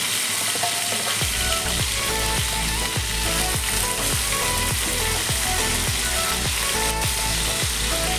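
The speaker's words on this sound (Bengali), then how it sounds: "মাছটা খুব ভালো করে হালকা সিমে দিয়ে দিয়ে ভেজে নিয়েছি" Large pieces of fish, Indian-style kalia preparation, frying in hot oil in a pan over low flame, giving a steady loud crackling sizzle with rhythmic scraping or stirring clicks throughout.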